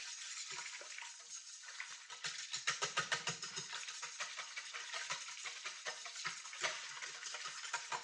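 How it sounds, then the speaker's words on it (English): A whisk stirs fresh milled flour in a bowl, giving a quiet, steady scraping and brushing with rapid rhythmic clinks against the sides, heard alone at close range. "I'll just show you with a whisk."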